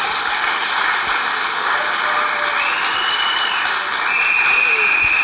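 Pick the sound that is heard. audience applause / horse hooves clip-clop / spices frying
audience applause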